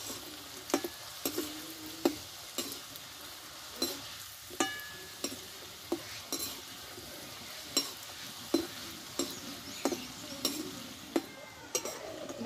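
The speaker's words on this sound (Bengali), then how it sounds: "দেখো বাকি চিপসগুলো ভেজে নেব আমি" Homemade chips of tomato sauce batter fry in hot oil with a soft, steady sizzle, broken by regular sharp clinks of a utensil against the pan about once a second; nobody talks.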